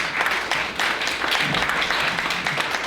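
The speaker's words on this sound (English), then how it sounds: "Some half-hearted clapping out there" Scattered, half-hearted clapping from an audience at a public meeting with a state attorney general's office, a thin uneven patter close by, carrying on steadily for a few seconds.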